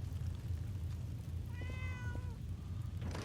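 A cat in the Fallout 4 video game lets out one short meow, faint and distant over a steady low hum.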